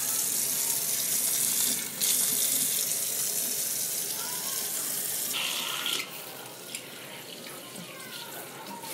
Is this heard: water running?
yes